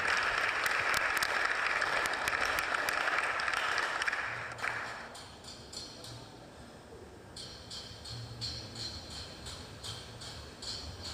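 A crowd claps in sustained applause at a youth goalball cup award ceremony in Accra, a dense even wash for about four seconds that then thins to scattered lighter claps and faint background noise.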